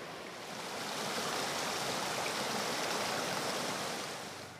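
Rushing water of a fast-flowing hilly mountain river in Jharkhand makes a loud, steady roar of broadband noise that swells in and holds without a break, with no voices.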